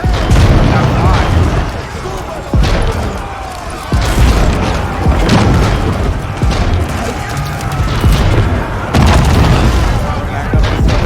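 Bombard cannons firing in the Age of Empires 4 real-time strategy game, heavy booming blasts recurring every couple of seconds amid a dense, loud battle din, with a voice talking over the action.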